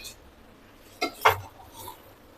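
A metal plate used as a lid is lifted off a cooking pot of vermicelli biryani, giving two quick close clinks and a short scrape in a quiet kitchen.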